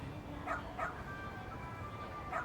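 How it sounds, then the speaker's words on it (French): A dog in the video game Lost Judgment gives a few short, soft barks and yips spaced across the moment, fairly quiet against a steady background of game ambience. "Oh, mais quel adorable toutou!"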